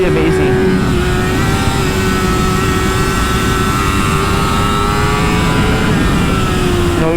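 A 2018 Yamaha YZF-R6 motorcycle engine runs on a track at a loud, steady high-rpm scream. The tone stays nearly constant and close, with heavy rushing wind throughout.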